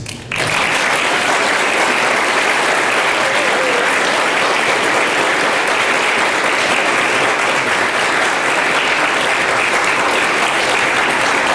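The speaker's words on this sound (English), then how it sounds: "Please give another round of applause for our crew and cast." A theater audience at a 2017 community stage production applauds the cast and crew: sustained, even, full-house clapping that starts abruptly and holds strong without pause, close and loud.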